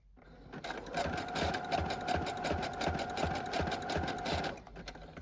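Sewing machine stitching along the edges of a dust jacket journal, running in one steady fast whirring burst of about four seconds that starts and stops cleanly, with no talking.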